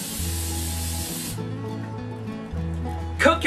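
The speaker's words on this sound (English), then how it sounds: "we need to spray this down with some butter spray" Butter-flavored cooking spray hisses from an aerosol can into an 8-inch baking pan in a steady close burst, over a low background hum, with a brief rattle at the end.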